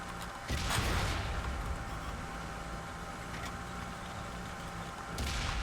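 Tank cannon fire in World of Tanks, a heavy booming blast followed by rumbling engine noise, with another shot near the end.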